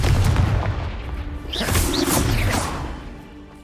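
A Confringo blasting spell detonates in Hogwarts Legacy on PS5, a loud booming explosion with crackling debris that swells and then fades over a few seconds.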